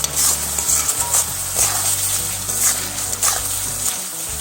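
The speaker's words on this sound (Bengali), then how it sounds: "দিয়ে মশলাটাকে আবারও একটু কষিয়ে নেব।" Spice paste for mutton kosha, with salt and a little sugar, stir-fried in a pan: loud continuous sizzling close up, with a spoon scraping the pan in a steady rhythm and no talking.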